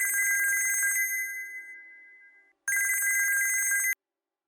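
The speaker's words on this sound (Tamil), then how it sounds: "ஃபோன் அடிச்சுட்டே இருக்கேன், எடுக்க மாட்டேங்கிறீங்க" A telephone rings with a bright electronic trill in two bursts, the first fading away and the second cutting off abruptly, close and loud with no voices.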